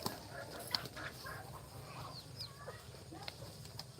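Backyard hens on a Bangladeshi homestead, good daily layers, cluck in soft scattered bursts at moderate distance over a steady low rumble, with faint bird calls around.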